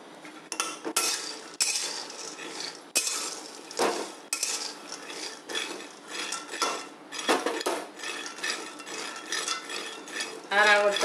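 A spoon scrapes and clinks against a pan while peanut ladoo mixture is stirred and roasted, a steady run of close, busy metallic scraping strokes with no talk.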